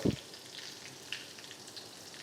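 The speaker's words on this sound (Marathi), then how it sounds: "मोहरी, कढीपत्ता, हिरवी मिरची, हळद," Mustard seeds, curry leaves and green chili tempering in hot oil, a low steady sizzle after a brief thump at the start, with a faint pop or two, no talking.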